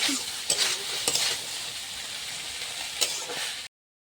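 Greens frying in a pan give off a steady, close sizzle, broken by a few sharp spatters and scraping stirs, then cut off abruptly before the end.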